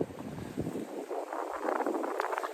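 Wind gusting by a river in the Occitanie countryside, a steady broadband rush with buffeting on the microphone that swells toward the end, with no voices.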